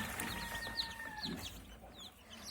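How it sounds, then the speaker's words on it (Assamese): Many small Sonali chicken chicks peep in high, rapid chirps that overlap continuously, close by, with a soft background hum. "এইবিলাক হ'ল সোণালী মুৰ্গীৰ পোৱালি।"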